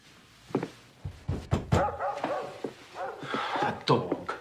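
A dog barks and yips in a busy indoor scene, giving a rapid string of short, muffled barks and whimpers that mix with thumps and voices.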